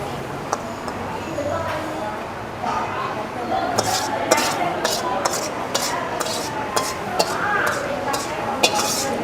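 Butter chicken being moved from a pan to a serving plate, with repeated metal spoon scrapes and clinks against cookware over a faint sizzle, while a person talks.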